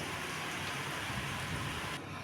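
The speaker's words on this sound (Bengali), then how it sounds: "আর দেখো বৃষ্টি কি বৃষ্টি।" Heavy rain pours down in a dense, continuous hiss, close and loud throughout. No voices can be heard over it.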